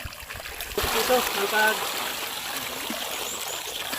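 Water runs and trickles during gold ore washing, a steady splashing flow that swells after a moment and stays close, with someone speaking briefly over it.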